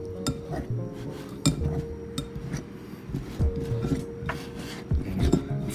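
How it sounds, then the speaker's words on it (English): A pastry blender cutting into a pizza dough mixture in a bowl, producing repeated scraping, clinking strokes in an irregular rhythm, close and moderately loud, with no speech. "Cut into that with our pastry blender."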